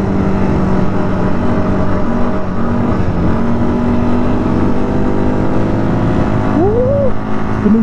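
A vehicle drives fast and drifts across the Dubai desert with a steady engine drone and a rising whine near the end.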